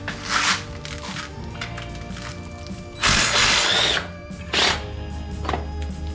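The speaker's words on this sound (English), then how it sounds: "I like the sound of power tools." Power tool, likely an impact gun, zipping off fasteners while a 1968 Camaro SS engine is dismantled in a shop, with several short loud bursts separated by quieter mechanical clatter and idle hum.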